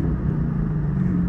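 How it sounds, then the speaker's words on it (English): A cammed Corvette Z06 engine rumbles loud and close under a bridge, a deep, steady, lumpy drone held for just over a second without any voices. "I'm gonna give it a rev under this bridge"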